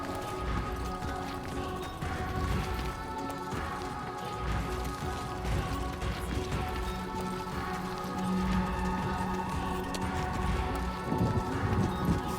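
Steady rain patters down close by in a continuous wash, with scattered heavier drops and knocks throughout and no voices.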